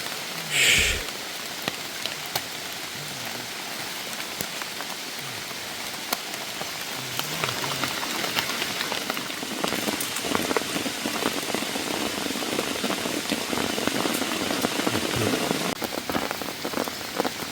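Heavy rain pours onto a mountain forest where hunters are camped under trees, a dense continuous hiss of drops close by that grows stronger over time.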